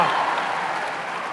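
Live audience applauding, a dense wash of clapping that fades slightly over a moment, with a voice speaking over it.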